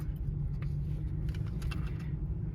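A 1999 Ford Taurus engine idles just after starting, a steady low rumble from inside the car with faint clicks and rattles over it.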